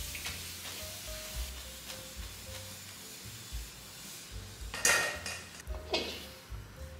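Meat frying in hot oil in a wok, a low steady sizzle with metal clinks of utensils against the pan and a brief louder scrape or splash near the middle.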